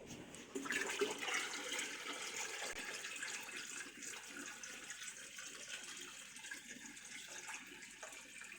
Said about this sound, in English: I'm going to see if I can pour all of this pot into this pot for a very short boil